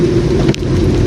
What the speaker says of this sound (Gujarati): બરોબરનો વરસાદ જામ્યો છે ભાઈ.